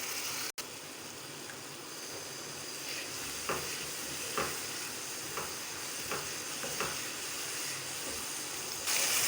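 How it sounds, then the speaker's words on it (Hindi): Masala for a whole masoor lentil curry sizzles steadily as it is fried in a pan, with a soft continuous hiss and occasional light stirring scrapes, close and alone without voices. "अब हम 5 से 7 मिनट इसको अच्छी तरह भुनेंगे।"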